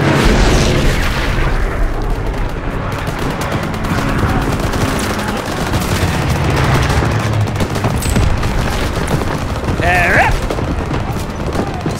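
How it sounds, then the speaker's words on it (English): Explosions and bursts of gunfire ring out in the Call of Duty: WWII video game, loud, dense and continuous, with brief voices over them. "Where's the kaboom? There's the kaboom."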